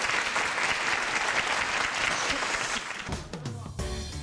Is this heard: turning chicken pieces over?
no